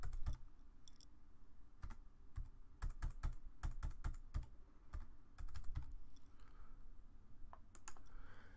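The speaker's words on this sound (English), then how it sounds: "click the create button and type in for my subassembly its number." Keys clatter on a computer keyboard in irregular bursts of quick, close, crisp clicks separated by short pauses, with no talking.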